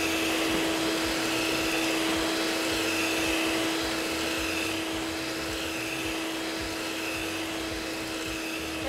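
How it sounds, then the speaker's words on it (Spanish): An electric mixer whips cream for a low-sugar mango shot dessert, a loud, steady, close-up motor whine that runs without a break. "vamos con movimientos circulares a batir. Va a aumentar la velocidad"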